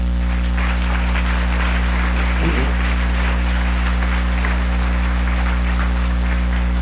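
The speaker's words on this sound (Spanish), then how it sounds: "denle un aplauso al Rey, por favor." A church congregation applauds, a steady, diffuse wash of clapping over a constant low electrical hum.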